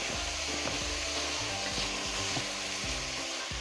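Garlic stirred in a soup pot for a low-carb stuffed pepper soup, giving a steady close sizzle with repeated scraping strokes of a utensil against the pot, no talking.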